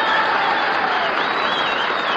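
A Milwaukee ballroom crowd claps loudly and continuously for an orchestra at a live radio concert broadcast, with dense applause and a faint whistle or cheer rising above it.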